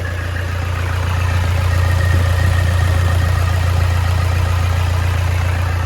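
A Toyota Innova diesel engine runs steadily just after a cold start, with a loud, constant low rumble and idle clatter close by. It has a fault where it suddenly dies with no throttle response and the check engine light on.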